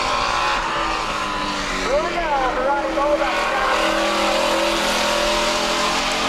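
Race cars circle a New England track, engines droning continuously with a distinct pitch swoop as one car roars past. The passing car sounds fairly close, with a voice talking over the steady track noise.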